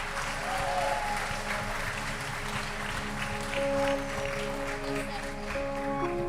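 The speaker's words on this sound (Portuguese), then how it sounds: "Eu queria que vocês aplaudissem Jesus pela vida dela." A church congregation at a water baptism service claps together in sustained, dense applause for several seconds, with a steady hum and organ-like tones underneath.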